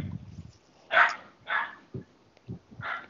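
A dog barks in several separate loud, short bursts, roughly one every half second, with lower grunts and small yips between them and no talk over it.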